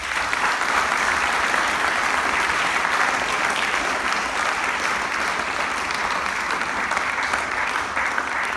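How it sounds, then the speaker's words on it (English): A school audience applauds steadily after an assembly marking the New Year with visiting colleagues from China and South Korea, a dense, even wash of many clapping hands that holds at a constant loudness throughout. "So let's give them a final round of applause."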